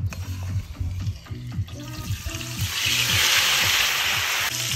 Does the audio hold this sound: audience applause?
no